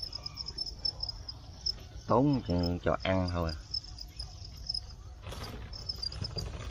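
Crickets kept as live bird feed chirp in a continuous high, thin trill that runs through the whole moment, briefly overlaid by someone speaking close by.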